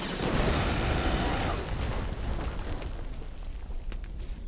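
A grenade blows up in the grey wartime shooter Resistance: Fall of Man, a loud broadband boom that fills the first second and a half, then trails off into a long rumbling decay with faint game noise.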